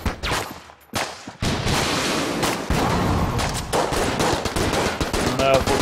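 Rapid enemy gunfire in the video game Enter the Gungeon crackles in dense, loud bursts, with brief gaps before another long barrage of shots fills the scene.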